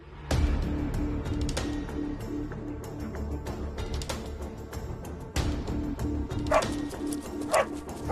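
Police dogs barking during a search, repeated sharp barks and yips, some whimpering, fairly close over a busy background of movement and noise.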